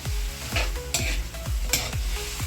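A spoon scrapes and stirs adobo chicken with pepper in a hot pan, a steady rhythmic stirring over a continuous close sizzle, with no talking.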